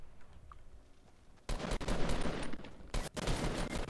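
Bursts of rapid automatic gunfire from a Fortnite match erupt suddenly after a quieter stretch, loud and dense with a brief gap before the shooting resumes.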